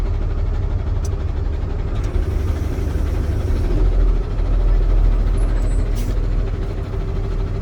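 A tractor-trailer truck pulls forward during an air brake test, its engine rumbling loudly and steadily with a dense low drone and hiss that never lets up, and no talk.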